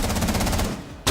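Rapid automatic gunfire from the Rainbow Six Siege video game plays as a fast, continuous burst of loud shots over about a second, then stops abruptly.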